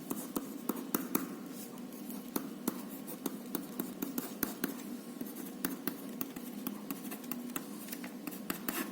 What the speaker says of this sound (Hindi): ये इधर साइड पे लिख देता हूँ